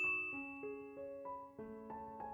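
A bell notification chime rings out several times in succession, bright tonal dings stepping through different pitches in a quick rhythmic sequence, clear and up front with no talk.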